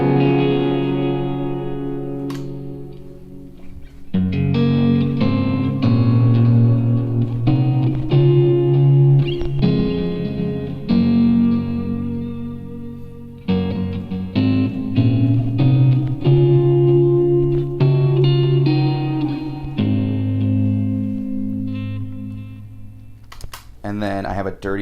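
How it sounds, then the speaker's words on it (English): Clean electric guitar rhythm tone from a Line 6 Helix, with a modest touch of reverb, playing sustained chords in a worship song; loud and steady with brief pauses and a short drop near the middle, no voices. "It's the clean setting. So my first two snapshots are for the rhythm guitar. It doesn't have a crazy amount of reverb on there,"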